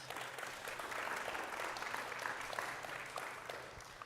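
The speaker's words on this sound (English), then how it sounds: "a round of applause" A church congregation gives a round of applause, a steady soft patter of many hands clapping together for about four seconds, heard faintly at a distance.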